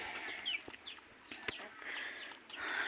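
A pet rooster on a small Nepali farm gives soft, scattered clucks while feeding, amid chirping birdsong and light background noise.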